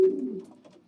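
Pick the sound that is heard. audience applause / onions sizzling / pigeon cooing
pigeon cooing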